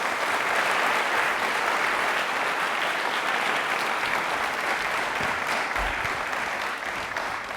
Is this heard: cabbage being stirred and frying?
no